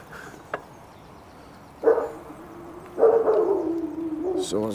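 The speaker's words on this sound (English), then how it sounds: "Someone's got a bad dog there." A dog barks a few times at some distance near the end of a canal where it joins a river, brief sharp bursts with a longer run of barking toward the end over quiet outdoor background.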